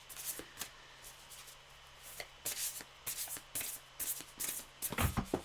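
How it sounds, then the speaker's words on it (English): Playing cards riffled and shuffled by hand, a half-deck spilling loose; a run of crisp, quick papery flutters in bursts, close and fairly quiet, ending in a louder flurry. "Oops, that was my shuffling."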